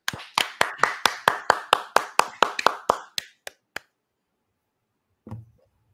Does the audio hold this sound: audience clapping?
yes